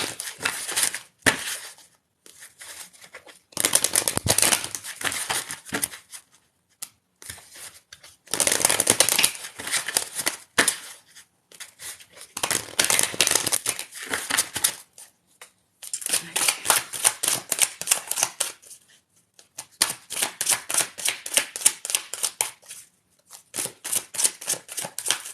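Angel cards are shuffled repeatedly up close, giving crisp riffling bursts that come in irregular rounds separated by short pauses across the whole stretch.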